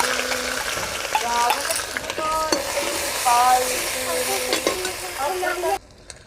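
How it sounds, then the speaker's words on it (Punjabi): Ginger, garlic, green chili, coriander and black pepper paste frying in a pan for village-style aloe vera sabji, a steady close sizzle with spoon scrapes and clinks, a few tonal squeaks and faint background voices, cutting off sharply near the end. "ਇਹਨੂੰ ਆਪਾਂ ਭੁੰਨਾਂਗੇ ਜੀ ਹੁਣ ਤਕਰੀਬਨ 5 ਤੋਂ 6 ਮਿੰਟ"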